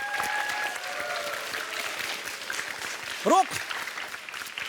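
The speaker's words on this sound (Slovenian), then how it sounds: "en velik aplavz za Štajerce, dajmo jim zaploskati" An audience at a school team competition applauds the winning team, a dense burst of clapping under an announcer's voice, with a short louder cheer near the end before the clapping thins out.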